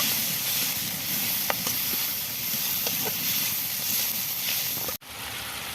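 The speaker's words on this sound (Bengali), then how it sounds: "মশলাটাকে ভেজে নেব।" Spice masala for a potato and aubergine curry fries in hot oil, giving a steady, loud, close sizzling hiss throughout, with a brief cut near the end and no talking.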